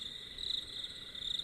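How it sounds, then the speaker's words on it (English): Crickets chirp at night in the video game The Storm of 59, a steady, high, continuous trill at moderate volume with no other sounds. "listening to the crickets chirping."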